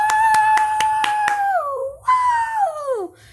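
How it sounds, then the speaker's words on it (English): Six sharp, evenly spaced hand claps ring out close and loud, followed by a long whooping cry from a voice that slides downward twice. "Clap your hands"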